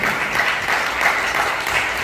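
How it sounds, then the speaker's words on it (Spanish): A church congregation claps steadily together in a sustained round of applause for about two seconds, fairly loud and continuous. "Den un fuerte aplauso al Señor, por favor"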